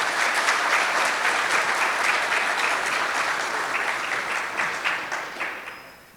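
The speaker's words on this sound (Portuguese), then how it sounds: "Peço uma salva de palmas para os nossos convidados, por favor." Dense applause from a seated audience welcoming guests at a Brazilian road-conservation conference, loud and steady, thinning and fading out toward the end.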